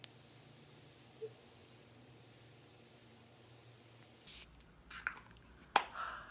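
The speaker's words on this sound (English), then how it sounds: "So now I'm going to spray my face with my Morphe setting spray." Setting spray from a Morphe bottle misted onto a face gives a faint, steady hiss lasting several seconds, then stops, followed by a few soft, close handling clicks and rustles in a quiet room.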